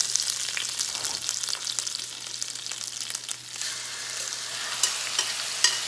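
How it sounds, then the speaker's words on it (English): Chicken sizzles steadily in brown butter in a pan, a loud continuous crackling hiss with occasional sharper pops, with no talking. "Hear that sizzle? That's what you're looking for."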